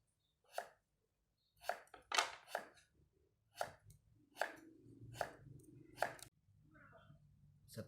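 A knife slicing potatoes on a cutting board, a series of sharp, irregular cuts close by, with a few quiet gaps and faint background hum.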